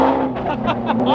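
A Lamborghini Aventador engine roars loud and close, a rich sustained V12 note with a rising and falling pitch during a short burst of driving.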